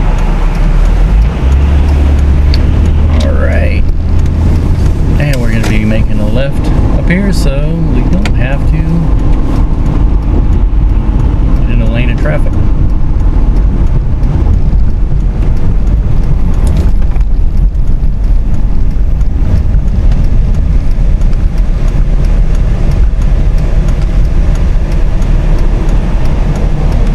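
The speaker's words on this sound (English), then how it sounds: "the truck is being pulled by a pickup truck" A pickup truck tows another truck along Jefferson Highway in Jackson County, Missouri, with continuous loud road noise and a low engine rumble throughout.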